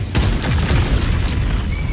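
A fiery explosion booms in the video game Baldur's Gate 3, a loud, dense blast that fills the whole moment with rumbling burst and crackle, with no talk over it.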